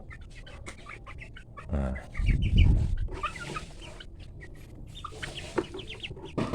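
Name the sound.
farm chickens clucking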